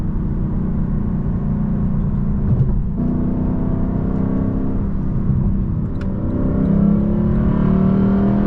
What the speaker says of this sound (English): Here's that good downshift. Damn, dude. Every single time it does not fail. That is such an aggressive downshift.